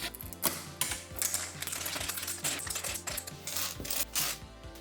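A 3D printer with a 0.2 nozzle prints keycaps at fine layer height, giving off a close, busy stream of rapid mechanical clicks, ticks and rattling stepper noise with no voices.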